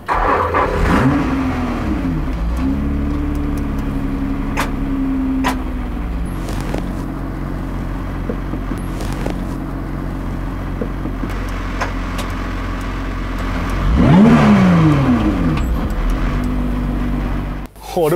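A Lotus Cup R sports car with its gearbox stuck in gear, the engine revving loudly in sustained climbing and falling sweeps, with a sharp rising rev burst near the end, while people talk over it.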